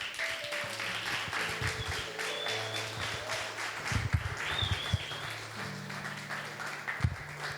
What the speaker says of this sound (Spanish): Que sea fuerte ese aplauso para el Señor y para estos chicos que nos han desafiado hoy